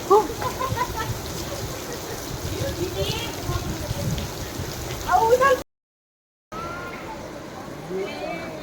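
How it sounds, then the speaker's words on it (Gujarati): Heavy rain pours in a steady roar near a waterfall in Saurashtra, with voices talking under it and a brief dead silence partway through. "એકદમ તળાફળી વરસાદ ચાલુ થઈ ગયો છે"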